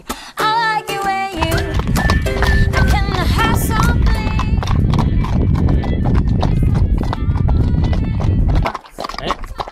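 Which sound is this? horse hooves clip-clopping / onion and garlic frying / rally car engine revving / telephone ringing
horse hooves clip-clopping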